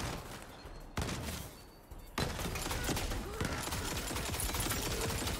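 Rapid bursts of gunfire in Tiny Tina's Wonderlands crackle and pop in dense volleys, loud and sustained, with heavier thuds mixed in and no talking.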